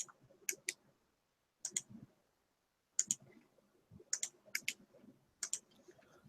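Bursts of clicky computer keyboard typing in short clustered runs separated by pauses, fairly quiet and close, with no talking over it.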